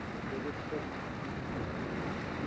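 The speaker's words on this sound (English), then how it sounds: "Fucking wind picking up." Steady wind rushes and buffets around an outdoor shelter, a broad continuous roar with faint gusting and a hint of distant voices underneath.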